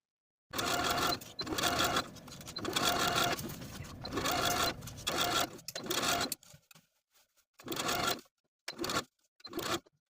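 A sewing machine stitches bias binding to the armhole of a sleeveless top in long continuous runs, then stops and restarts in shorter bursts, close and clear.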